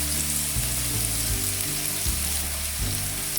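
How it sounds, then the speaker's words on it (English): Thinly sliced ginger stir-fries in a hot pan for a fish dish, with a loud, steady sizzle and a few rhythmic scraping stirs. "Now let's add the thinly sliced ginger. Stir it for about 30 seconds."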